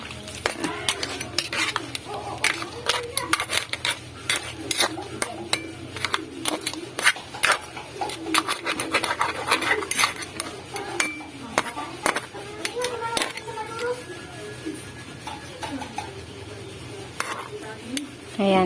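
A metal utensil stirs coconut milk into a crab and string bean stew in a pot, making repeated close clinks and scrapes against the pot over a low kitchen background.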